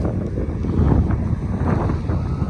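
Wind gusting across an open ploughed field of former sunflower stubble, a steady low buffeting roar close to the microphone with no voices.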